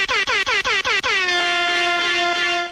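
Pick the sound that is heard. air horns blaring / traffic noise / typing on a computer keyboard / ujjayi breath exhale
air horns blaring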